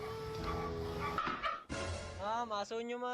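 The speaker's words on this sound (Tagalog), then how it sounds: "Ma'am, aso nyo ma'am." A dog barks and yips in short bursts, then whimpers with rising whiny tones, close by amid overlapping voices talking at a lively birthday gathering.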